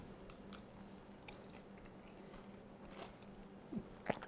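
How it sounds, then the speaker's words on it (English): Crisp bites and chewing on a spinach, fennel and white bean gratin, a few crunchy snaps close to the mic near the end, faint and brief against a quiet room. "Hear the crunch?"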